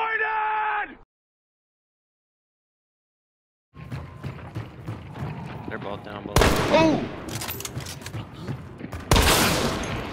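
Shotgun blasts in the online shooter Hunt: Showdown, two loud sharp booms cutting in after a silent gap amid rustling movement and other gunfire, with voices talking over the action.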